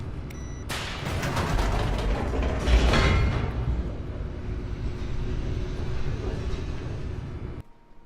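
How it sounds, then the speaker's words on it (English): A game elevator in The Stanley Parable descends, giving a steady low mechanical rumble with rattling and clanks that swell around the third second, then hold evenly and cut off abruptly near the end, with no voices. "Okay, another elevator. It only goes down."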